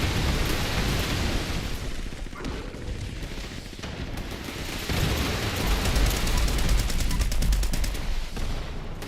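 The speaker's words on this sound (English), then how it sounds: "all these turrets and they still can't do a lot of damage to him" Turrets firing in the video game Fallout 76 during a fight with Bigfoot, a dense continuous rattle of rapid gunfire layered over loud noisy rumble throughout.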